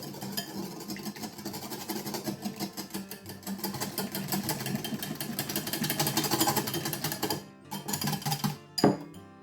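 Egg and melted butter being mixed together for buttermilk waffle batter: a rapid, continuous whisking and rattling against a bowl, close and busy, then a brief pause and a few final clatters near the end.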